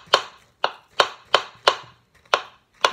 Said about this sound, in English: then you just chop it